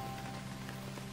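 Soft, steady rainfall patters evenly on a surface, faint and continuous with a low hum beneath, used as relaxing backdrop in kids' sleep music.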